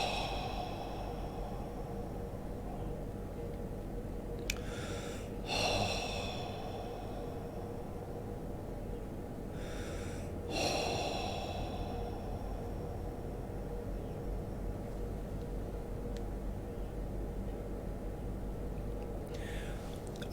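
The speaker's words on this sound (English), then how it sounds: "Take 3 deep breaths" Three slow, deep breaths during a meditation, each exhaled as a soft sigh of relief, spaced several seconds apart and faint over a steady low background hum.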